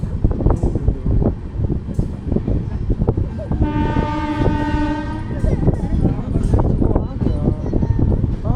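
Chauri Chaura Express passenger train running on the rails near Binki station, a steady loud rumble and rattle with a sustained horn blast in the middle, people talking over it.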